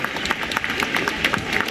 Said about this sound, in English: the crowd burst into spontaneous applause